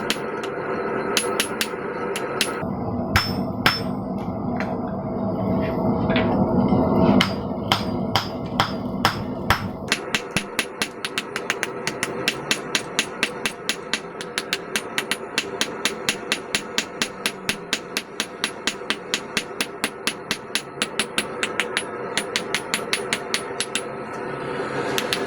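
Steel hammered by hand on a blacksmith's anvil while a hardy tool is forged, the workpiece flipped in the hardy hole. Sharp metallic blows ring out close and loud, irregular at first, then a long steady run of rapid, evenly spaced strikes.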